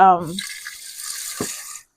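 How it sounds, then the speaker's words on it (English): Water poured into a cooking pan in a home kitchen while making veal and zucchini parmigiana, a steady splashing pour lasting under two seconds after a brief voice, fairly close and moderately loud. "I'm just going to pop a bit of water in this and pop it on the stove"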